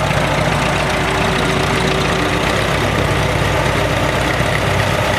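A 544 Gold Demo utility tractor idles close by at a show, its engine giving a steady, loud, unbroken low rumble with no talk over it.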